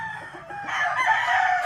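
A rooster crows loudly and close by, a single drawn-out call rising after a brief moment of quieter background clucking.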